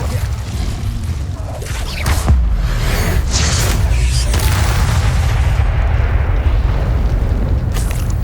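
A fire spell cast in Hogwarts Legacy, a loud roaring burst of flame with whooshing surges that swells and stays rumbling for several seconds.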